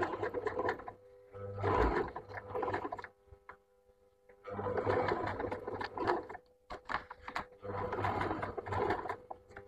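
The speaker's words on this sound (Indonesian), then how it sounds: "Pelan-pelan saja teman-teman jahit sambil tangan teman-teman ini mengarahkan kertasnya mengikuti pola spiralnya" Sewing machine stitching a spiral pattern into paper, quiet whirring bursts of rapid needle clatter that start and stop three times with short pauses between, no talking.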